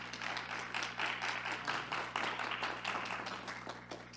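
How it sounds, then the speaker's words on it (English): Applause from a panel discussion audience honoring a performer, fairly quiet with distinct individual claps audible in an uneven rhythm, swelling slightly midway and tapering off. "Let's give her another round of applause."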